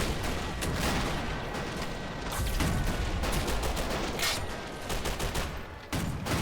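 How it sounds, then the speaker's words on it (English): A DP-28 machine gun fires in a video game battle during an amphibious beach assault, with sustained rapid bursts over a constant roar of surrounding gunfire and explosions. "We got another DP-28 firing here in between, underneath the sandbag."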